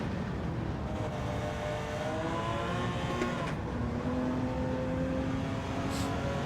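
Race car engine in the Gran Turismo 7 video game, revving up through the gears with short shifts, a steady continuous drone with rising tonal sweeps and brief upshift breaks, loud and close throughout.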